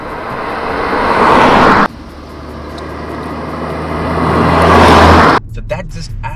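Skoda Octavia vRS engine heard from inside while driving, a loud rising drone that builds, drops abruptly as if on a gear change, then climbs again before cutting off, with a brief voice near the end.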